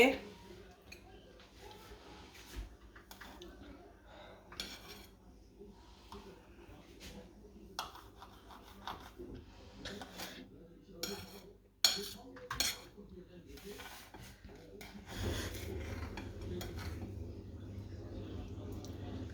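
Kesari sweet being cut in a pan, with scattered clinks and scrapes of a utensil against metal, fairly quiet, and a steadier rougher stretch near the end.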